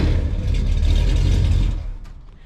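Engine of a 1984 Dodge D150 pickup truck fitted with Flowmaster 44 mufflers, a loud, steady deep rumble that holds for about two seconds and then eases off, with no talking.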